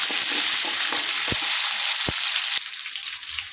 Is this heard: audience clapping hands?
no